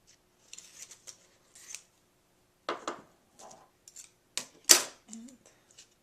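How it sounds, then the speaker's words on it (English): Scissors snip through a vinyl sheet being cut to size for glass etching, giving a series of short, close crisp cuts spread unevenly over several seconds, with one sharper snap near the end. "So I'm gonna cut my vinyl to the size."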